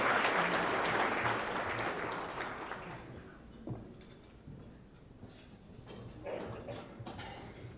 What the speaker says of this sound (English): I will applaud you and keep doing it